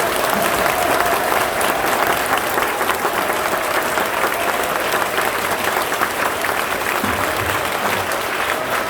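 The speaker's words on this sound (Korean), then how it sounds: "박수 한번 주시기 바랍니다" A church congregation at an inauguration worship service gives a dense, steady round of applause that fills the full nine seconds, loud and continuous with faint crowd murmur.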